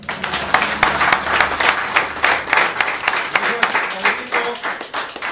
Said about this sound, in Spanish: Vamos a darle paso con un fuerte aplauso al padrino Charlie